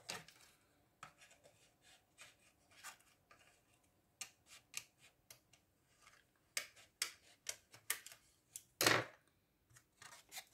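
Scissors trim the edge of a box in short, crisp snips, close and quiet, spaced irregularly with brief pauses and one louder cut near the end.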